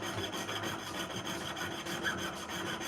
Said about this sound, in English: it's perfect for sawing through 18 karat yellow gold